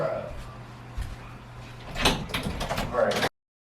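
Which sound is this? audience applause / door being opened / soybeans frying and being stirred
door being opened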